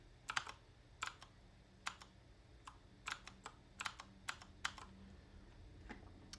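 Typing on a computer keyboard during a programming session, with quiet clusters of crisp key clicks at an irregular rhythm over a low background hum, with no talking.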